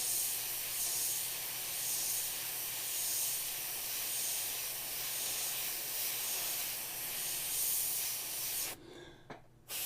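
Steady, loud hiss of spray paint applied lightly over white in a cobalt blue and white painting, continuing unbroken for most of the stretch and then cutting off sharply near the end.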